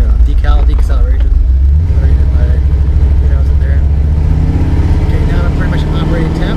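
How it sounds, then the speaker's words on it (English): A car engine running on Holley EFI rumbles steadily while driving down the street, loud and close, with a person talking over it throughout. "I'm driving down the street here."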